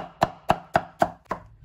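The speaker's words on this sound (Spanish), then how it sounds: "Ahora vamos a picar la piña." Pineapple being chopped with a knife on a cutting board: about six sharp, evenly spaced knocks, close and clear, with no talk.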